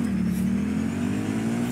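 Steady motorcycle engine drone from the video game Cyberpunk 2077, a constant loud hum with a firm low tone and no clear rise in revs, heard alone without voices.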